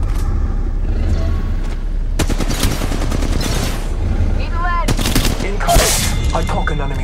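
Gunfire from Apex Legends Mobile on an iPad Pro 2021 comes in loud, close bursts of rapid automatic shots, with a dense volley early on and another sharp cluster about two-thirds of the way through, separated by quieter background game noise.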